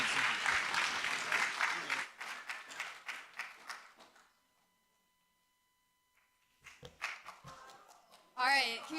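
Audience applause at a startup demo day, dense clapping for about four seconds that fades into near silence, then scattered claps and a burst of crowd noise return near the end.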